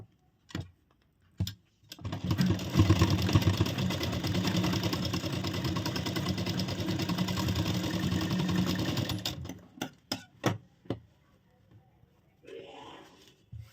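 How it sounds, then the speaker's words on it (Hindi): A sewing machine stitches the dart on a princess-cut deep-neck blouse, running steadily for about seven seconds after a few short clicks, then stopping with scattered handling taps and a faint voice at the end. "इसमें भी हम सिलाई लगाएंगे"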